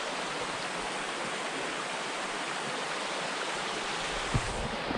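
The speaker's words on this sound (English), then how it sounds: "I guess this is part of the creek that has the waterfalls at the top" A creek with waterfalls rushes steadily, a dense, even wash of flowing water heard close and alone from start to finish.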